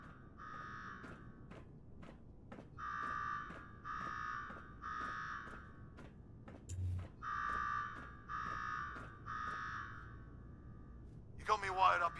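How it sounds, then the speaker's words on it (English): Electronic alarm from the Fallout 4 game sounding in a repeating pattern of buzzing pulses, faint and steady beneath game dialogue and effects, with a short sharp noise near the end. "Now go shut off that damn alarm."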